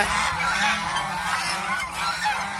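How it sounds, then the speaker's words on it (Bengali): A female goose honks loudly and close by, a continuous run of harsh, overlapping calls with no pause. "এইটাও কিন্তু মেয়ে হাঁস।"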